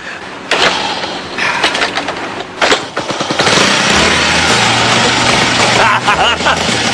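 A Honda Super Cub motorcycle's small single-cylinder engine cranks with uneven bursts, then catches and settles into a steady, loud, close idle.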